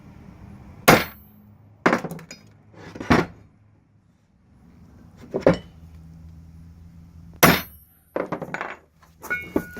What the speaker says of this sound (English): Now all we've done is just peen that just a little bit.